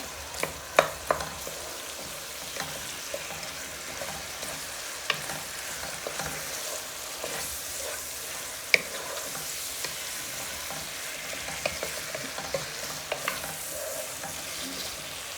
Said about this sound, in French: Après, vous venez remuer.